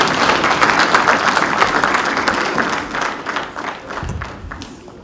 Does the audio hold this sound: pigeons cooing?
no